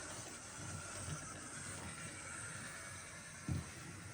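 A faint, steady hiss and rumble of a small train running along its track, with a soft click or two and no voices.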